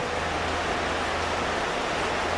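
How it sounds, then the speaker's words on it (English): Heavy rain pours down in a steady, even hiss, with no voices and no break in the downpour. "it's raining quite a lot, brothers and sisters"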